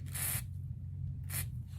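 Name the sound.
spraying WD-40 onto mass air flow sensor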